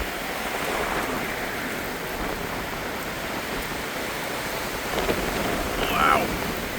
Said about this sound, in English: Hopefully you guys aren't being drowned out by the wind.